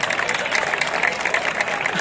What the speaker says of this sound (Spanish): Fuerte aplauso para él también.